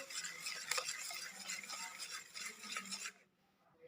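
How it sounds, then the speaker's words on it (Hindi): Eggs and sugar whisked together in a bowl for cake batter, a fast rhythmic scraping and clicking of the whisk against the bowl that continues for about three seconds, then stops abruptly into near silence. "मैं अंडे के अंदर चीनी को अच्छे तरीके से मिक्स करके फेंट लूँगी।"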